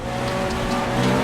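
A car in a racing video game brakes hard with a steady, loud tire squeal and engine noise running unbroken and close.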